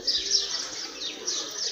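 Pigeons in a pigeon loft give a few short chirps and soft calls, close by and brief, with no talk.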